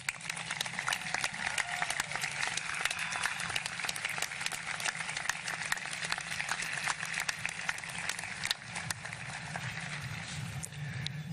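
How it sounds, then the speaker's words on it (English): Sustained applause from a large crowd at a high school graduation, steady dense clapping that continues for several seconds without pause. "Join me in giving these folks a round of applause"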